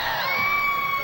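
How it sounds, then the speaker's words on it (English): Forest Lake fans cheer from their dedicated section at a 2008 high school basketball game against Brookside Christian, a brief, steady crowd roar with shouts and a high sustained whistle-like tone running through it. "So the Forest Lake fans are rooting on their"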